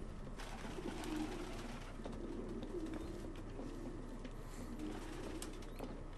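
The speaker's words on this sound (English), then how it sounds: "No human could live with all these fucking pigeons." Pigeons coo in the video game Detroit: Become Human, producing low, repeated soft coos over a steady low hum. The cooing is faint but continuous.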